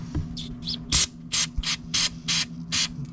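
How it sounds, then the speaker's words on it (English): Carb cleaner sprayed from a can in short jet bursts onto the dirty carburetor of a John Deere lawn mower, about eight sharp hissing spurts in an uneven rhythm, close and loud, over a low steady hum. "So, I got some of this carb cleaner stuff here. A little jet spray."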